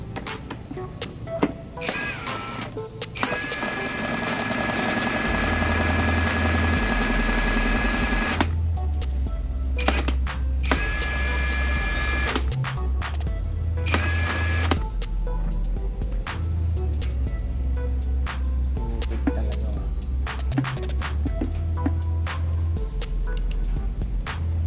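A 1998 Yamaha R1 motorcycle engine runs with a knocking from its rear, a steady mechanical whir carrying sharp repeated ticks and low rhythmic thumps, close up and without talk.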